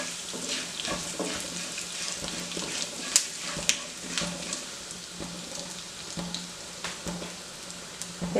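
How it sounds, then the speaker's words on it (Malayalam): A tablespoon of fennel seeds sizzles in hot coconut oil for a Kerala-style prawn roast, a soft, steady frying hiss with faint crackles and a couple of sharper pops. "ആ വെളിച്ചെണ്ണ ചൂടായി കഴിയുമ്പോൾ നമുക്ക് 1 ടേബിൾ സ്പൂൺ പെരുംജീരകം ഇട്ട് കൊടുക്കാം."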